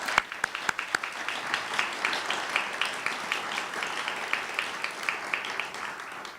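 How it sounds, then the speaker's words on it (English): Guests at the John Marshall Dinner start with a few sharp, scattered claps that swell into sustained, fairly distant applause filling the room. "let's give them a round of applause."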